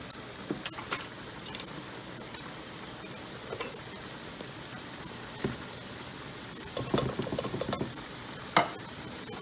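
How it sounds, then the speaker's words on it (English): Tomatoes and chili powder are stirred into a simmering sauce in a pan, a low sizzle running steadily with intermittent soft scraping and clinking of the spoon against the pan. "Go ahead and give that a good mix around."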